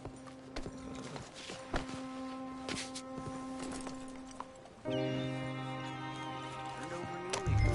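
Hooves of a horse walking in a PS4 game clop in an even rhythm, fairly near, over steady background game ambience; a louder musical or tonal layer swells in during the second half.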